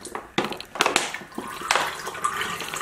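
Liquid egg whites, 250 ml, are poured into a container for a protein shake, giving a close, splashing pour in bursts with short gaps and no talking.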